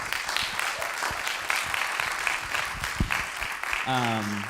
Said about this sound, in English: Let's give our authors a round of applause.